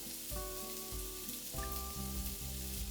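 Onions and peppers sizzle steadily in oil in a pan where sausage has been cooking for cabbage soup, a close, continuous frying hiss with a soft stir partway through.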